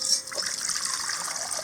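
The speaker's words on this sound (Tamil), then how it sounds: "கொஞ்சம் கூடி தண்ணி ஊற்றி" Water poured over soaked tamarind to dissolve it in an outdoor village kitchen while making anchovy fish curry, a soft steady trickle and splash heard close up without talk.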